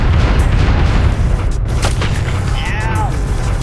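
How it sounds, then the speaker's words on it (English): Bombs burst one after another as a minecart rolls over them in Oddworld: Abe's Exoddus, making loud, dense, booming blasts layered over continuous rumbling game noise, with a short whistling tone near the end. "Heck, the minecart will just set off disabled bombs anyway."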